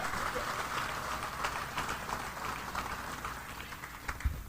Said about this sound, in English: Give him and Mr. Tim Owens a round of applause for all the work they do on this pre-trip.